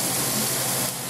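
Minced garlic, about three cloves, sizzles in a hot skillet as a steady, close, bright hiss that holds for about a second, then eases slightly at the end.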